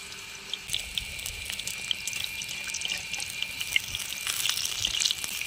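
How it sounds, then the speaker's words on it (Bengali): Steady crackling sizzle of gram-flour-battered pumpkin flowers frying in oil, with scattered small pops and spits throughout. "এবারে কুমড়ো ফুলগুলো চপ আকারে ভেজে নেব"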